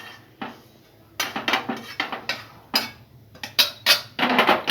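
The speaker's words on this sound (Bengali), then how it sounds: "এই যে মিক্সিতে তুলে নিলাম," Roasted sesame seeds being tipped and scraped into a steel mixer-grinder jar in a home kitchen, giving a series of sharp clinks, taps and rattles in irregular bursts, close and fairly loud, with no talk.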